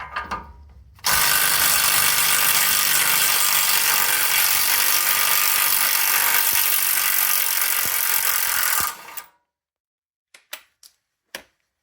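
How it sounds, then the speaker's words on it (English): A power tool whirs in one loud, steady burst for several seconds removing a jam nut from a 2010 Ford Expedition steering rack, then stops, followed by a few sharp metallic clicks. "First, I'll remove the jam nut."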